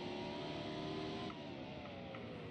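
A NASCAR race car engine in a video game holds a steady, droning whine at a roughly constant pitch, dipping slightly partway through, with no talk over it.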